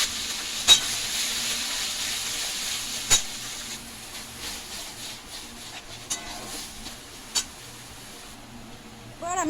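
Bottle gourd peel paste fries in mustard oil over a tempering of black cumin and dried chillies, giving a steady, fairly quiet sizzle with a few sharp clicks scattered through it.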